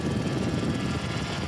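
A camera helicopter flying over the Bathurst race circuit during the 1986 125cc Australian Grand Prix, giving a steady, continuous rotor and engine drone at moderate loudness with no talk.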